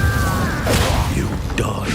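A Confringo blasting-curse explosion cast in the Hogwarts Legacy game lands as a loud, sharp crash and boom amid busy combat noise, with a low rumble underneath and a bright crackling burst trailing near the end.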